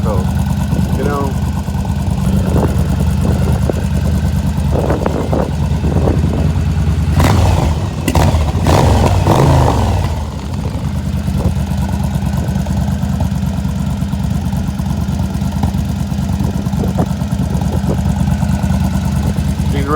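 A sport motorcycle engine runs after a starter repair, idling steadily and loudly close by with a short burst of revving and clatter midway before settling back to a constant idle; a voice talks over it.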